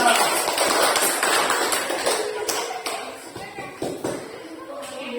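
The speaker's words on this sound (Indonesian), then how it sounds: "Ya, Bang, guling. Ya, tepuk tangan." A school physical education class claps after a forward roll demonstration, a run of sharp, uneven hand claps close by, loud at first and then thinning into scattered slaps, with voices mixed in.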